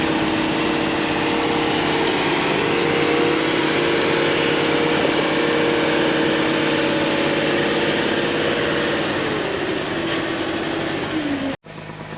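A packing tractor shaping a feed pile during a wet harvest gives a loud, steady engine drone that holds without a break, then cuts off abruptly near the end before briefly resuming.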